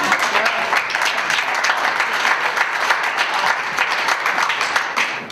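An audience applauding after an interactive theatre performance at an Alzheimer forum, dense sustained clapping from a sizable crowd, loud and steady for about five seconds.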